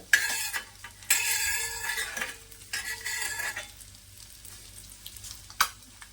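Eggs sizzle and fry on a flat tawa for a dhaba-style egg masala, with a spatula stirring and scraping in bursts and the sizzle easing toward the end, capped by a brief metallic clink.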